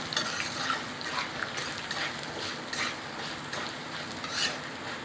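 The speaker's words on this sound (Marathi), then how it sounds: "याच्यामध्ये कढीपत्ता त्यापुढे दोन मिनटं हलवून घेऊया" Curry leaves stirred in a hot pan for an upma give a continuous soft sizzle and crackle, with scattered scraping taps of a spoon at a moderate, steady level and no talking.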